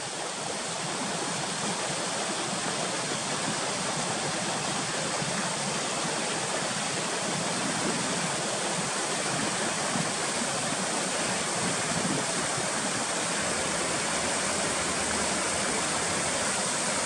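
Water from a mountain stream in Rocky Mountain National Park rushes continuously, a loud, broad, steady roar close by with no talk.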